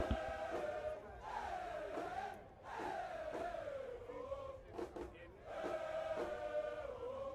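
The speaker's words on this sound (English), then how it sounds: "you could just hear the stadium pulse, man. You can hear the crowd." A stadium crowd at a Louisville Cardinals versus Kennesaw national championship football game chants and yells in rising, swelling waves, loud and sustained with brief dips between surges.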